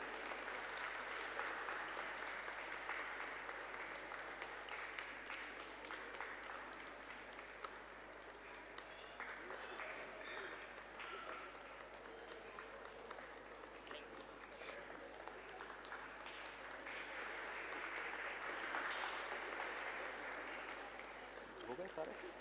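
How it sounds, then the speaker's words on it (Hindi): Congregation applause at a Hindi carol service in a cathedral church, sustained clapping that rises and dips over about twenty seconds, heard fairly faint and distant. "हम लोग ताली बजाएंगे।"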